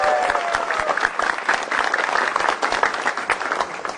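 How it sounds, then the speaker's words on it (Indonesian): Audience at a televised stand-up comedy show claps for a comedian taking the stage, a dense, steady burst of applause that stays loud and close for several seconds. "Tepuk tangan buat Panca Atis"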